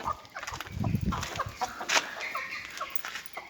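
Chickens and roosters cluck and squawk close by in a small flock inside a chicken coop, irregular bursts over a steady background hum, no talking.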